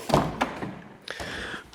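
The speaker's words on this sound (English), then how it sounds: "So we'll open up the passenger door" Passenger door of a Smart Roadster being opened: a couple of soft clunks and taps from the latch and door, followed by a brief metallic rattle and light handling noises nearby.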